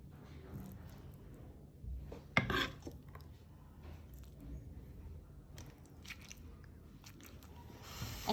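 A person eats a meal of shrimp bhuna and red spinach, producing quiet chewing and soft squishy bites with occasional clinks of utensils on a plate, including one sharper clatter.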